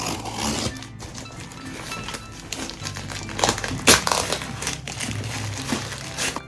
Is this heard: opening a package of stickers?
yes